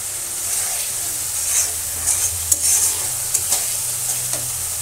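Spice masala fries in oil in a pan, a steady close sizzle with a hissing wash and a few sharp scrapes or pops from stirring.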